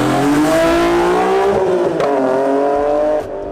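A BMW S54 straight-six fitted with a carbon airbox, in a Supra, revs loud and close, its rising engine note holding steady before dropping off sharply near the end.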